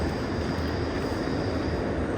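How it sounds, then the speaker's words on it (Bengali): A train pulling into a station on a Switzerland-to-Paris journey, a steady loud rumbling roar of wheels and carriages filling the platform without pause. "16-এই ঢুকছে, এটাই মনে হয় আমাদের ট্রেন।"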